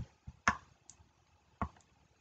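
Soft computer mouse clicks, a few sparse isolated taps at low volume while filling out an online petition form, with no voices.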